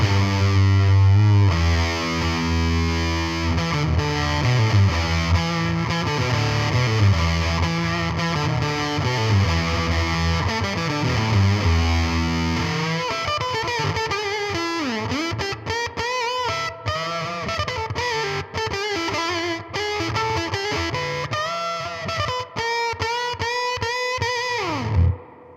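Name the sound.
electric guitar through Warm Audio Foxy Tone Box fuzz, octave off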